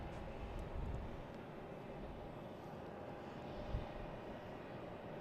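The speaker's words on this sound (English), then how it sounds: "You can probably see a lot of the planes coming in," Steady broadband roar of jet airliners landing and taking off at Boston's Logan airport at dusk, a continuous distant rumble with slight swells, no talk.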